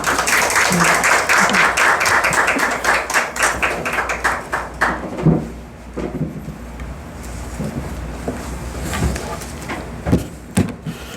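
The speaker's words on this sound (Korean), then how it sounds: "박수로 환영합시다" A church congregation claps to welcome a visiting speaker, with a lively burst of applause at first that quickly fades into scattered claps and faint room noise.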